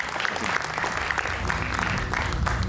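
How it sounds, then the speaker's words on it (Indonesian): Studio audience at a televised talk show applauding, a continuous even patter of many hands at moderate level with faint voices underneath. "Kita berikan tepuk tangan Bung Pitra."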